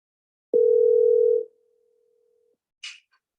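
A telephone call tone before forwarding to voicemail: one steady electronic tone of about a second that fades out, then a brief, higher beep after a short silence.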